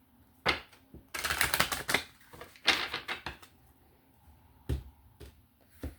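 A deck of tarot cards being shuffled up close, with bursts of riffling card flutter and sharp taps as the deck is squared, separated by short quiet gaps.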